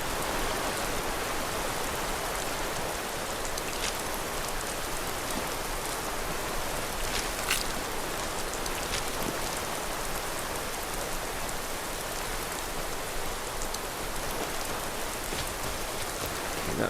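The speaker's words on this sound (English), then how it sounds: "Okay, that's a waterfall." A Skyrim waterfall in the wilderness of the Reach gives a constant, even roar of falling water, like heavy rain, with no talk over it.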